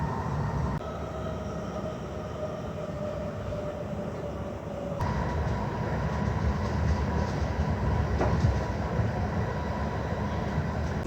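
A train rolls along the rails with a steady low rumble and rushing noise, heard from inside, shifting slightly partway through.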